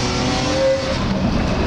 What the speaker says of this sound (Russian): хочу снять, как звучит выхлоп свежий, который с Audi Q7